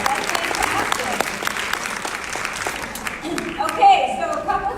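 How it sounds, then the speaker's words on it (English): A roomful of people at a sales coaching training applaud, a dense continuous clatter of hands with cheering voices mixed in, tapering off near the end as a voice speaks. "Give yourselves a round of applause."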